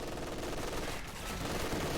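Machine gun fire in the strategy video game Company of Heroes 2, a dense, continuous rattling burst that holds steady at moderate loudness for the whole stretch, with no talking.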